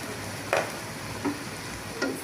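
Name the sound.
onion and ginger paste frying in a pan for chicken biryani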